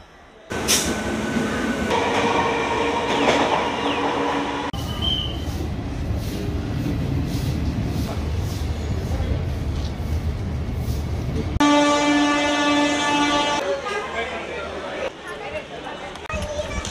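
A passenger train, the 02847 Summer Special from Santragachi to Digha, pulls in beside a station platform with a loud rolling rumble, clanks, and a brief high squeal from the wheels, while voices are heard nearby.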